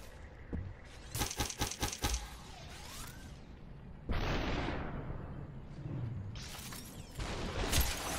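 Gunfire and impacts in the video game SUPERHOT come as a rapid burst of sharp cracks, then a heavy whooshing blast and more loud bangs and shattering bursts, all dense and close.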